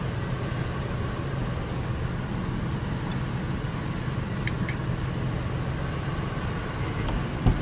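A white-and-black Ford E250 work van engine runs at a steady low idle, a continuous rumble heard from nearby with faint background noise and no talking.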